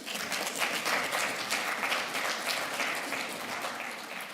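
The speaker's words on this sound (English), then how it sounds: "Give me applause." Sustained audience applause at a Niger State governor's address, a dense wash of many hands clapping steadily and fairly loud throughout, with no voices over it.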